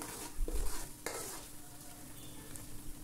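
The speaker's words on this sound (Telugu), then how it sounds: "చక్కగా ఉల్లిపాయ వేగింది." Onions frying in a pan of oil and ghee for a vegetable keema pulao, a steady close sizzle with a few stirring scrapes and clinks near the start.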